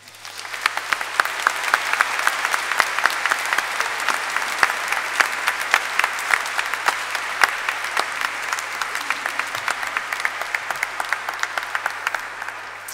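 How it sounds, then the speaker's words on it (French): A church congregation applauds during a welcoming liturgy for a new priest at the Collégiale Saint-Ursmer in Binche. Dense, steady clapping fills the reverberant nave for the whole stretch, with no speech over it. "Je pense qu'on peut l'applaudir."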